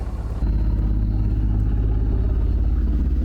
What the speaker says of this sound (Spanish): Ha caído completamente el viento, así que vamos a motor